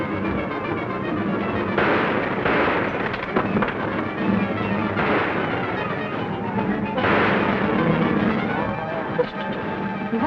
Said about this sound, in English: What are you shooting up in the sky for?